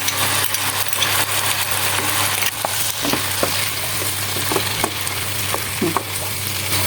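Vegetables being stir-fried with tomato sauce and a little tasting sauce in a pan for a Chinese vegetable dish, a steady loud sizzle broken by repeated scraping and clacking strokes of a spatula mixing the contents, with no talking.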